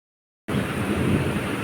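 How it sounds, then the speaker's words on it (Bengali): Steady broadband hiss of rain falling begins abruptly after a short silence and continues evenly. "দেখতেই পাচ্ছ বৃষ্টি শুরু হয়ে গেছে"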